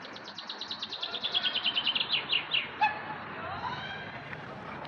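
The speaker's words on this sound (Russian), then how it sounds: "Птички так поют. Соловьи нам насвистывают." Nightingales sing a long series of rapid, repeated whistled notes rising in intensity, followed by varied trills and chirps, with a faint background hum, in a garden in Yaroslavl.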